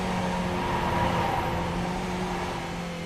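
Skip Barber race car engine in the iRacing sim at Lime Rock Park, a steady droning hum held at fairly even pitch as the car climbs uphill, moderately quiet and unbroken, with no talk.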